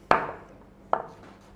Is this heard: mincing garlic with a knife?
yes